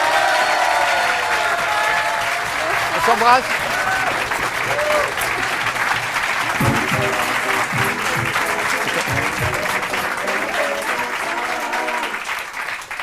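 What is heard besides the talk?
applause for Isabelle Lahière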